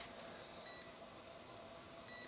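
A Breville Bambino Plus espresso machine sounds its auto start timer: two short, faint electronic beeps spaced over a second apart against a quiet room hum.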